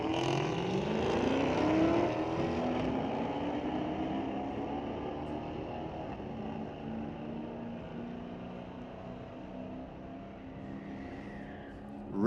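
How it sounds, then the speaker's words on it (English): Manual-transmission Cadillac drag car accelerating up the strip at Mission Raceway, its engine note loud and steady, climbing through the gears, then slowly fading as the car pulls away down the track. "I won't talk so you can listen to the engine. Really cool sounding car."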